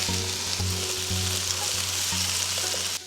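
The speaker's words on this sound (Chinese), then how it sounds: "土豆在煮之前用油煎一下，" Potatoes fry steadily in hot oil for a Thai curry, a dense continuous sizzle with faint rhythmic stirring scrapes underneath, close and even throughout with no voices.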